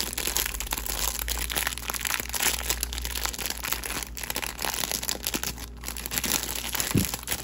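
Plastic wrapping on a small milestone cake being peeled off, a steady close crinkling and crackling of film that runs throughout with no talk.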